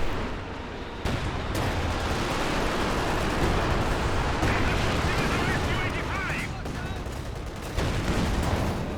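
Loud, dense gunfire and explosive blasts from an attack-ground order in Company of Heroes 2, sustained bursts of rattling shots and booms filling the whole stretch.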